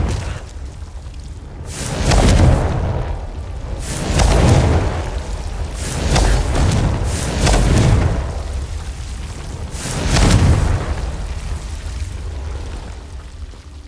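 Bombarda and Confringo spell explosions in the game Hogwarts Legacy, several loud booming blasts in a row, each swelling then fading over a continuous rumbling background.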